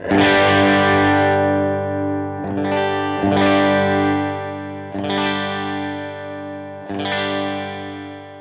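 A PRS SE Custom 24 electric guitar on its bridge pickup at full volume, played as loud, distorted sustained chords through effects, struck four or five times with long ringing decays, alone without talk.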